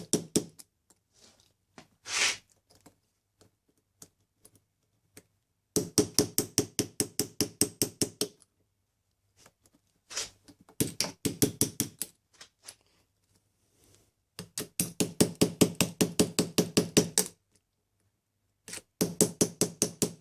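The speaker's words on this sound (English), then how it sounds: "We'll take our small hammer" A small hammer taps a bicycle freewheel's metal locking ring in quick rapid bursts of sharp knocks, separated by short pauses, close and clear with no talking.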